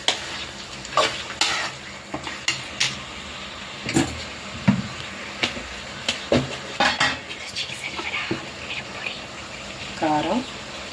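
A kilogram of washed raw chicken is stirred and tossed in a metal pot, with repeated scraping and clinking of a utensil against the pot in uneven bursts while someone talks.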